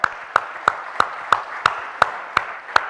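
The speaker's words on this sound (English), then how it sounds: "a round of applause for TEDx" Steady, evenly spaced hand claps, about three per second, ring out sharply and alone from an audience at a TEDx youth event in Mumbai.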